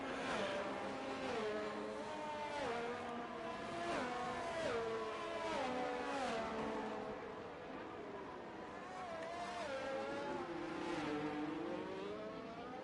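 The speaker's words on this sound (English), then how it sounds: "As they're coming around now to line up on the grid to get this race under the" Several race cars in a racing game roll around toward the starting grid at a track in Brazil, engines droning steadily with shifting, rising and falling pitch throughout, loud and continuous with no voices.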